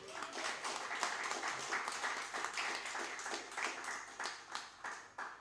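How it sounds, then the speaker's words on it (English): Concert audience applauding steadily, a dense wash of many hands clapping at moderate distance, sustained without break and with no talk over it. "give him a huge round of applause"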